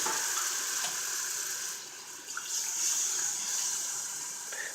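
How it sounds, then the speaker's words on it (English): Tomato juice poured into a roux in a pan while making homemade tomato soup, a steady liquid hiss and sizzle close by throughout, with no talk. "I take at least 2 cups of juice to place into the roux."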